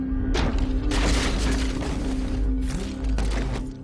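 A high-pressure nitrogen blast tears through a Paris street set built for a film scene, a loud, deep roaring burst with crashing and shattering debris and rumbling that carries on in sustained waves.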